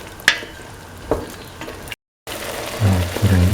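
Eggs scrambled in a pan for a chickpea and coconut milk rice dish: soft stirring scrapes and a few utensil taps, a short gap of silence, then a louder steady sizzle with low bumpy stirring sounds.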